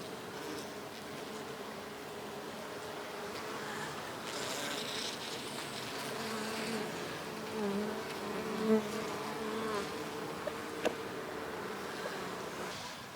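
Honeybees buzz steadily around an opened hive during a late fall inspection, a dense, continuous hum close by with a few sharper passes near the end.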